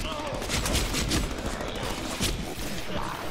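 Rapid gunfire from the Deadpool video game, a dense fusillade of shots running continuously at steady loudness, with a voice talking over the shooting throughout.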